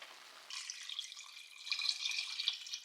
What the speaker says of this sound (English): Can I add water all the way?